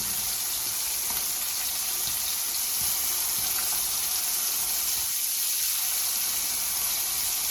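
Pallathi fish frying in oil gives a steady, broad sizzle that holds evenly throughout, with watery crackle and no voices.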